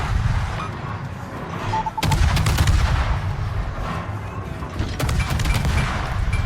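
The Japanese destroyer Akizuki fires shells in a naval battle game. Two loud salvos of rapid booming shots land around two and five seconds, with constant rumbling sea and engine noise underneath.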